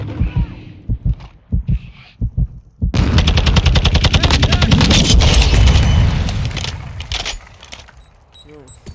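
Rapid gunfire bursts in a Call of Duty multiplayer match, a sustained loud rattle of shots with booming impacts, following a few isolated shots at the start, with players talking over it.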